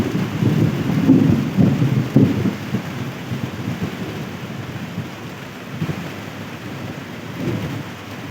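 Steady rain falls outdoors in a rural area with rumbling thunder, loudest early on, then a continuous wash of rain under occasional low rolls, no voices.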